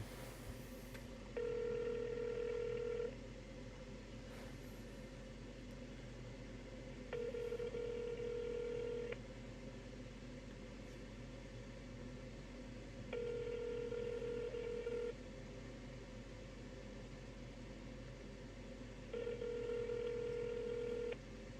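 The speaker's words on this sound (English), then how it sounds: "So I'm dialing this now. I'm going to put it on speakerphone." DTMF keypad dialing tones heard over a phone on speakerphone, four clear bursts of tones spaced evenly, each about two seconds long, above a steady low hum, with no talking.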